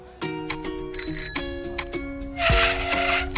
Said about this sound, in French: quand je fais la sonnette, tu arrêtes ton vélo